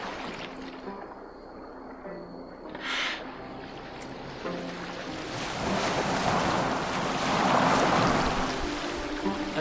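A boat moving over the sea in Assassin's Creed Valhalla, with steady wave wash and rushing water that swells louder toward the end, and a brief owl-like hoot early on.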